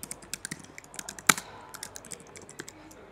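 Scattered clicks of typing on a computer keyboard, a dozen or so light keystrokes spread irregularly across a few seconds with one sharper, louder press near the middle, close and clear with no talking.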